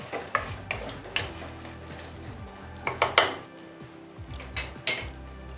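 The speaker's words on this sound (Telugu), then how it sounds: "టమాటాలు కూడా బాగా వేయించాలండి, బాగా మగ్గాలి." Tomatoes frying in a pan while a utensil clinks and scrapes against the metal, giving repeated irregular clatters over a soft sizzle, close by with no talking.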